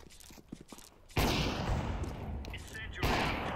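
Counter-Strike 2 match with a sudden loud burst of gunfire after quieter clicks and footsteps, sustained shooting with a second volley near the end, close and intense.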